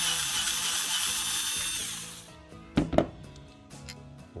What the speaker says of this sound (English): now we're going to remove this bolt that holds the side stand to the left side bracket.